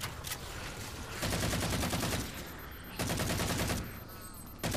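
Shotgun fire in the video game Halo 4 comes in loud, dense bursts of blasts with short gaps between them, heavy and close throughout.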